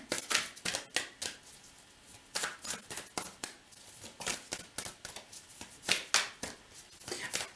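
A deck of cards being shuffled close by, a steady run of crisp riffling bursts and soft flutters repeating in quick succession with no talking.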